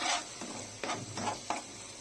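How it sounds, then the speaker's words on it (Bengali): Cumin and dried chili spice mix fries in hot oil while a spoon stirs it, giving a faint sizzle with three or four short scraping strokes against the pan. "এখন ভালো করে একটু মিক্স করে কষিয়ে নেব মশলাটা।"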